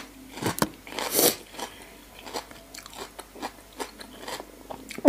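Crunchy bites and chewing of a Thai khanom jeen rice noodle salad with radish, loud crisp snaps at first, then softer, repeated chewing close to the mic.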